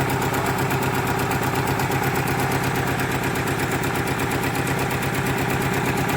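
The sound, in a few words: 1990 Eagle Talon TSI engine running rough after 19 years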